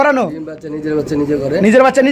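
A pair of jet-black Black Beauty pigeons coo close by in a loft, a soft throaty rolling call repeated through the moment, with people talking over it.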